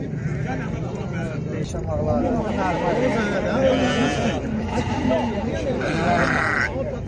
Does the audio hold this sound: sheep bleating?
yes